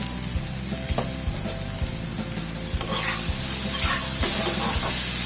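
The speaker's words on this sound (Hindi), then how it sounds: "अच्छे से मिलाते हैं" Soya-stuffed karela stirred and frying in a pan, a steady close sizzle with repeated scraping stir strokes that grow louder and denser toward the end, no voices.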